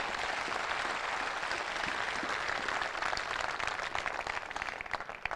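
Audience applause at a business gathering, a dense sustained clatter of many hands clapping, loud and even throughout with no talk over it.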